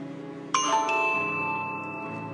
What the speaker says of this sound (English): So I will trigger push notification